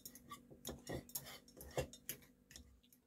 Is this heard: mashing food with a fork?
yes